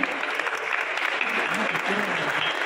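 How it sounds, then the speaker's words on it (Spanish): A room of attendees at a press presentation for a telenovela cast claps steadily throughout, a dense, even wash of applause with murmured voices underneath. "Un fuerte aplauso para Juan Soler."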